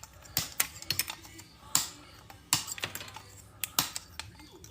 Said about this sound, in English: Go ahead next, clip all these fins off as close as you can.